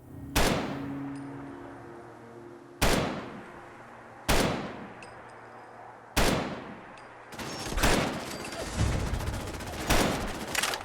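Gunfire in the Fallout 4 video game: several loud, sharp single shots spaced a couple of seconds apart, then a faster burst of repeated shots near the end, each with a short decaying tail.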